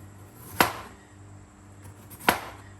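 Two sharp knife chops cut through potatoes on a cutting board while making homemade French fries, spaced well apart and close up, with no talking.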